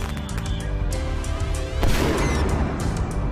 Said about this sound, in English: People light firecrackers.